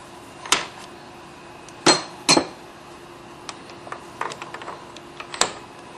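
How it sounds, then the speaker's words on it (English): Lathe tooling being swapped, a facing tool removed and a turning tool fitted, gives a few sharp metallic clinks and clanks at irregular intervals with lighter taps between, close by and with no talking. "We got to put in the turn tool and take out the facing tool."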